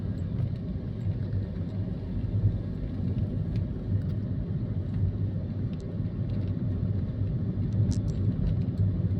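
A car cruising along a road near Khemarat by the Mekong, heard from inside as a steady low engine and tyre rumble that continues unbroken throughout, with faint light ticks on top.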